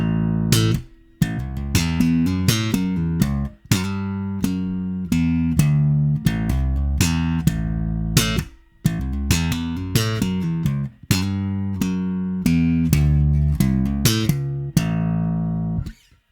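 Bass guitar slap and pop lick played slowly, with percussive thumb slaps and snapping pops forming short repeated phrases separated by brief gaps, close and loud with no talking.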